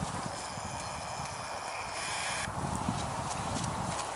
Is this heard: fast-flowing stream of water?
no